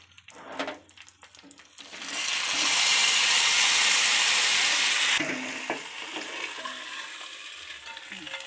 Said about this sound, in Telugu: ఈ తాలింపుని సాంబార్లో వేసుకుందాం